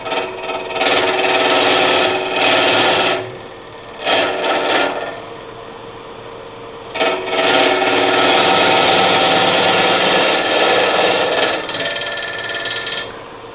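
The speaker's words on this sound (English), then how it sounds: "I'm going to push forward and let the carbide cutter slice through the corners." Carbide cutter on a wood lathe slicing through the corners of a spinning blank, producing loud rattling, chattering bursts that come in several separate runs with short breaks between them.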